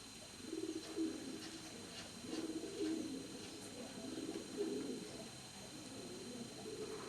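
Racing pigeons coo in a breeding and racing stud loft aviary, a soft low rolling murmur of several birds repeating in overlapping phrases, fairly quiet and steady with a faint hum of the surroundings.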